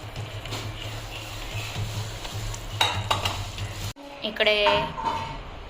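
Mutton pieces go into roasted masala in a pan over a village wood-fired chulha, giving a steady sizzle with stirring scrapes, followed by a brief pause and then livelier clattering sizzle near the end.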